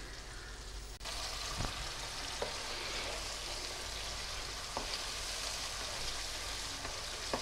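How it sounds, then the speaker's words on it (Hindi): Masala frying in a pan for an egg curry, a dense, steady sizzle with a few faint stirring taps, heard close with no one speaking. "ये देखिए ये मेरा मसाला भुन रहा है।"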